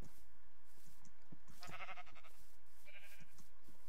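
Goats in the Minecraft video game bleat in a few short, nasal calls clustered near the middle and end, moderately close over a quiet, low background with no talking.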